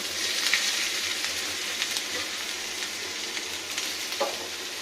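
Ginger fries in oil in a wok-style pan, a continuous moderate sizzle with light crackles and a few scraping stirs, no talk.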